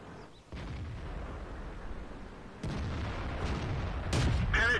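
Heavy tank gun blasts from World of Tanks, a deep booming shot rumbling on, then another loud report near the end, with broadband explosive noise throughout.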